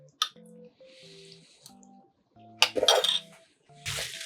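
Spoon clinking and scraping against a bowl of soup with melted Parmesan and Swiss chard, a series of close, sharp clinks and scrapes with quiet pauses between, plus a couple of wetter slurping bursts.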